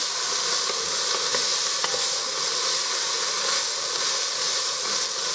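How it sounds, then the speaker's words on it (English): Vegetables for corned beef and cabbage soup sauteing in a pan, a steady, close sizzling hiss that holds evenly throughout with faint stirring clicks and no voices. "You just want to give them a nice little saute."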